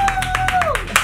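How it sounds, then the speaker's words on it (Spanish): Studio audience on a Spanish television game show breaks into rhythmic clapping, close and steady across the whole moment, with a sustained whistle cutting through above the hands. "Un fuerte aplauso, que entre José."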